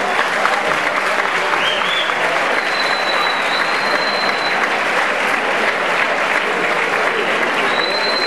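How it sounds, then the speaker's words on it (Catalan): Steady, dense audience applause at a high school graduation ceremony handing out diplomas to batxillerat and vocational students, continuous clapping from a large crowd with a few faint whistles over it. "Un fort aplaudiment per a ells."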